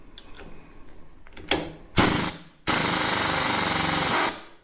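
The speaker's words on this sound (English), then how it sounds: "I am going to take a hammer and whack the top a few times" A hammer strikes the top of an old International Cub Lo Boy tractor's steering wheel: a few sharp metallic whacks, then a loud, sustained grinding-like noise that cuts off abruptly, all close and without talk.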